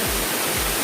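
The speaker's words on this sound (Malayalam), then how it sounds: "ഇതാണ് വെള്ളച്ചാട്ടം എന്നാണ് പറയുന്നത്" A waterfall at Vagamon on a cold day gives off a steady, close broadband rush of falling water, with a couple of low thumps underneath.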